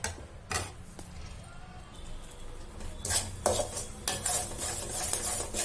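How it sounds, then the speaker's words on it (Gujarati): Flour roasting slowly in ghee for adadiya, stirred in a pan with irregular metal scrapes and clanks of the utensil against the pan over a faint sizzle, growing busier toward the end. "લોટ છે તે ધીમે ધીમે સરસ રીતે શેકાઈ રહ્યો છે"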